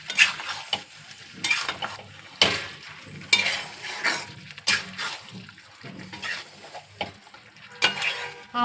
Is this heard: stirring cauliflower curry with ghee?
yes